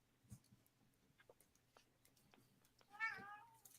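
A pet cat meows once near the end, a short rising call close to the microphone, after a few faint clicks and household noises in an otherwise quiet room.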